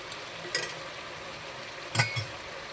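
Chicken curry being stirred in hot oil in a pan: two short scraping, clinking stirs about a second and a half apart over a faint background sizzle, with no talking.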